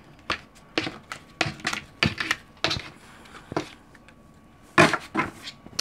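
Crisp tapping and flicking of tarot cards being shuffled, in irregular bursts of sharp clicks and soft riffles, close up and quiet, with no voices.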